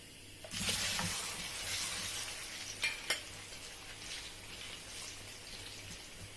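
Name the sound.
frying plantain (dodo) in oil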